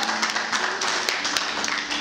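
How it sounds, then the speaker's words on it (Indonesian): Congregation clapping hands together during a church service, a dense steady patter of many hands over about two seconds, fairly loud and close with a faint voice underneath. "Yang percaya boleh tepuk tangan sama-sama buat Allah kita."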